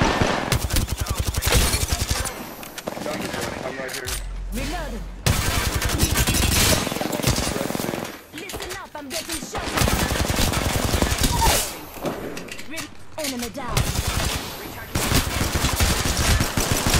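Rapid automatic gunfire bursts repeatedly in an Apex Legends match, loud bursts separated by brief pauses, with in-game voice lines and player talk mixed in.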